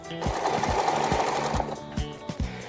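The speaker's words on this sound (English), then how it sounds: "I'm going to run a straight stitch from the edge to maybe here and stop." A sewing machine running a straight stitch on a stuffed toy project, a fast steady mechanical whirr with regular thumping needle strokes, close and continuous, with no talk.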